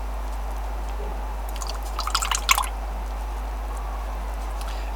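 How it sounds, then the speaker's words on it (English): A paintbrush is rinsed in a container of water while painting flowers, making a short cluster of soft splashing and dripping sounds midway over a steady low hum. "Rinse out my brush."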